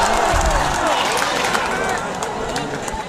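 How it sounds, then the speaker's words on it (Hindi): A mushaira audience welcomes a poet with loud, dense, continuous applause and crowd noise, fading slightly toward the end. "जोरदार तालियों से इस्तकबाल कीजिए मोहतरम महशर आफरीदी साहब से"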